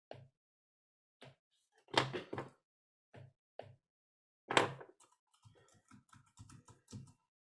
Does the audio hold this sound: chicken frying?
no